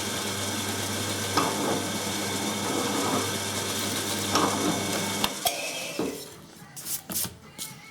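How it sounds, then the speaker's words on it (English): A Forstner bit grinds steadily into wood to cut a shallow marking hole, giving a continuous close rasping whir. It stops abruptly and is followed by a few light knocks and handling sounds. "we're going to start off by just making a mark with the Forstner bit so we can get as depth calculation"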